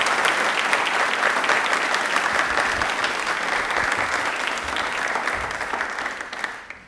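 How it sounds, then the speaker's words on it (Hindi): A television studio audience gives a huge, sustained round of applause on a Doordarshan rail-themed quiz programme, dense, steady clapping that holds for several seconds before tapering off at the end. "Please, huge round of applause"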